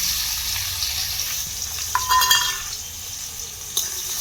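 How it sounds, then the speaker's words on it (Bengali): Thin, long-sliced onions fry in hot oil with a steady close sizzle, broken by a few stirring scrapes and clinks from a utensil, with no talk. "এবারে এই তেলের মধ্যে দিয়ে দেবো আমি বেশ কিছুটা পেঁয়াজকে"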